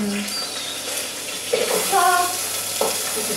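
Apples frying in coconut oil in a pan on a floor-level cooking setup, a steady sizzling hiss with brief spatters and clatter, close and moderately loud.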